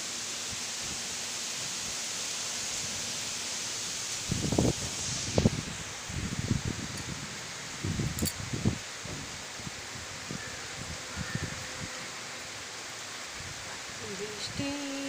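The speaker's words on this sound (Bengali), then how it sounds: "এই দেখো আকাশটা, ঝোড়ো হাওয়া বইছে, সঙ্গে বৃষ্টিও হচ্ছে" Stormy monsoon wind and rain in a Bengal village, a steady broadband rush of rain with gusty rustling bursts in the middle and faint voices at times.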